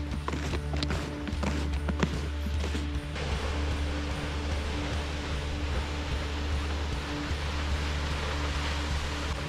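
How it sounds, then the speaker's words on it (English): Water pours heavily over partly frozen winter falls, a loud, steady broadband rush that fills the whole clip close up, with a few brief knocks and scrapes in the first few seconds. "There's a lot of water rushing over those falls."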